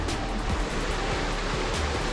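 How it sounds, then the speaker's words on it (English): Waterfall in Coyote Gulch, a desert sandstone canyon, pours as a steady, broadband rush of falling water with no pauses, moderately loud and alone without voices. "semi-legit waterfall here"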